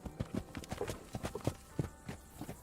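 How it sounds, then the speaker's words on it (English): Horse hooves clip-clop in an irregular walking rhythm as a white horse rides up, a series of fairly close, moderately loud thuds with no voices. "So a white horse rides up and comes up to the man"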